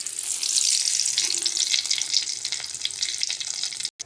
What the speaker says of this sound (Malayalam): നമുക്കിനി കറിവേപ്പില ഇട്ട് കൊടുക്കാം